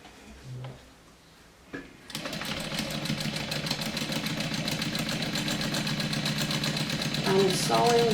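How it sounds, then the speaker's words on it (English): Sewing machine stitching a messenger bag, starting after a quiet pause with a small knock, then a loud, steady rapid mechanical whir of stitching running continuously, with a brief squeak near the end. "So now I'm just gonna sew around it."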